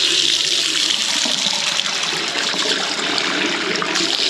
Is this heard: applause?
no